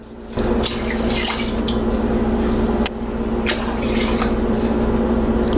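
Water pours steadily from close by into a pressure cooker of mutton biryani in a continuous splashing stream, briefly breaking off once before flowing again, with no talking.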